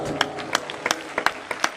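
Church gathering crowd claps in brief, scattered bursts, a few distinct hand claps standing out over a soft background murmur for under two seconds.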